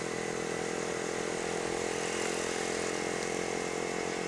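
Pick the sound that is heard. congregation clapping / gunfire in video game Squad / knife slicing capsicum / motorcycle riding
motorcycle riding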